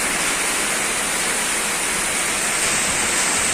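Heavy rain falling in Hyderabad makes a loud, steady wash of hiss, close and continuous, with nothing else heard.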